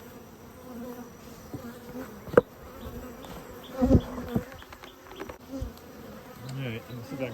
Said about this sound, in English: I'm assuming you can see all them bees.